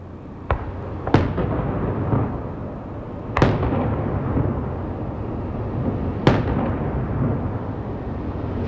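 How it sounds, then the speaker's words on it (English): Fireworks fire a salute volley before the 1998 implosion of the Aladdin hotel in Las Vegas, with four sharp, loud booms spaced a few seconds apart, each rolling away into a long echoing rumble. "they've given the okay now for the 1 minute salute, the volley of fireworks, which we should hear"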